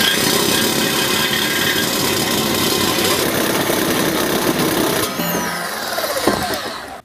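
A power cutting tool bites through a Ford Mustang exhaust pipe at the bend, giving a loud, steady grinding buzz up close that shifts to a rougher, rattling tone over the last couple of seconds.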